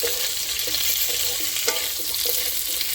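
Potatoes fried until reddish-brown, with freshly cut green chillies, sizzle steadily in a hot pan, with a constant crackle and occasional stirring scrapes and clinks, close and continuous.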